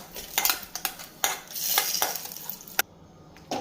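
A roasted banana flower mix is scooped from a pan into a jar, with close metallic scrapes, spoon clinks and a few sharp knocks, with no talking.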